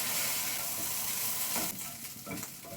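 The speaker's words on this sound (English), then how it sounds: "Now into the same pan, add 1 teaspoon of sunflower oil and fry the bacon." Bacon fries in a pan with a teaspoon of sunflower oil over medium-high heat, a steady close sizzle that eases slightly near the end as it is stirred.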